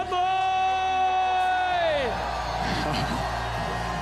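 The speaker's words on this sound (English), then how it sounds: "Whistler, give it up for Tomas Lemoine" A crowd at the Red Bull Joyride slopestyle mountain bike event podium in Whistler cheers and yells, rising after a sustained tone fades, under announcer talk over the PA.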